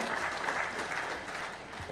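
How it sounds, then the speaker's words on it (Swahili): Applause from a crowd gathered to celebrate a woman's life, a steady dense clapping that holds evenly throughout without any break. "Asante, tumpigie makofi tafadhali."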